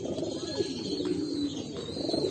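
A loft of fancy pigeons cooing close by, a soft, throaty, overlapping murmur that rolls on steadily with a few faint chirps above it.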